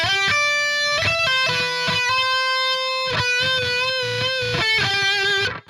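Distorted electric guitar plays a lead outro, sustained melodic notes sliding between pitches over a chugging low rhythm, loud and continuous with no talking.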